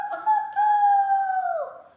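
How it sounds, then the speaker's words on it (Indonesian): A single rooster crows nearby in the morning, a clear, drawn-out call lasting about two seconds in otherwise quiet surroundings. "Bunyi ayam berkokok di pagi hari"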